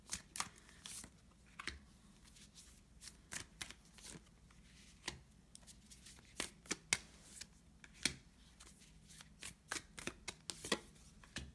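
A new deck of cards being shuffled, heard as quiet, close bursts of quick riffling flutters and soft snaps that come in irregular clusters, with no talking.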